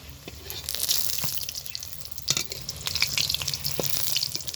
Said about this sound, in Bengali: দেখে বুঝতেই পারছো যে কতটা কম তেলে ভেজে নিচ্ছি